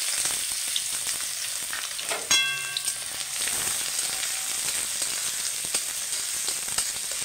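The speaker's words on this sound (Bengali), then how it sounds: "পেঁয়াজটাকে লাল করে ভেজে নেব" Chopped onion fries in a little oil in a pan with bay leaves and cumin, a continuous close sizzle with faint crackles and one brief tonal clink partway through, no talk.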